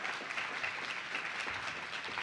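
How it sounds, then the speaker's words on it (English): Sustained audience applause at a Newark youth summit on voting at sixteen, a dense, steady wash of many hands clapping with no break, fairly close and unbroken by talk. "Let's give them a round of applause."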